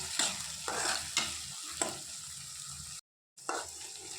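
Onions and curry leaves fry in a pan, giving a continuous close sizzle with repeated scraping stirs. The sizzle cuts out briefly near the end, then resumes.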